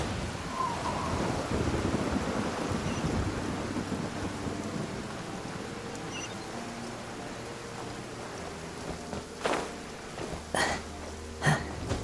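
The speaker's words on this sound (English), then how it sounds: "Taking a stroll in the middle of a downpour certainly rouses the spirit." Heavy rain pours steadily in a video game downpour, a dense continuous hiss, with a few sharp cracks and bursts of thunder near the end.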